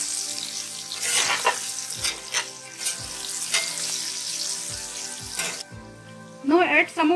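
Gram flour dumplings sizzle and crackle in hot oil with mustard and cumin seeds while a utensil scrapes and stirs the pan in repeated strokes, ending with a short burst of talk.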